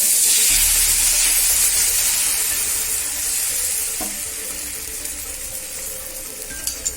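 Wheat dosa batter poured onto a hot pan, bursting into a loud, steady sizzle and hiss that runs continuously, with a faint clink of a utensil near the end.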